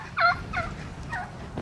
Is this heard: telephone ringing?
no